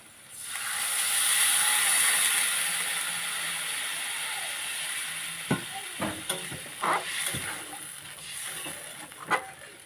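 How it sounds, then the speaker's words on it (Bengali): Water is poured into fried spice paste for a whole river tengra fish curry, raising a loud, rushing sizzle that swells and then settles into a steady hiss, with a few sharp clinks and scrapes toward the end. "এবার দিয়ে দেবো জল।"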